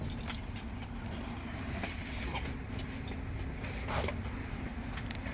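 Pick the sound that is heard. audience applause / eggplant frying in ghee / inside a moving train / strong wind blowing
inside a moving train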